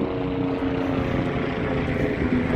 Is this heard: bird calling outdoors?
no